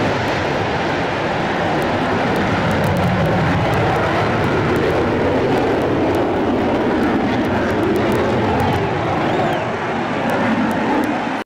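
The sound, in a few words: helicopter flyover at Houston Veterans Day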